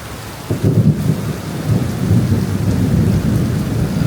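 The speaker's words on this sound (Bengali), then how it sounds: "1 ঘন্টা ধরে এরকম টানা বৃষ্টি দেখেন" Heavy, steady monsoon rain pours down in rural Bangladesh, with a deep roll of thunder rumbling in after a sharp onset, and the downpour keeps up a dense hiss throughout.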